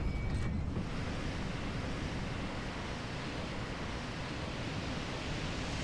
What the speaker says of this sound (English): Ooh, the water level just dropped.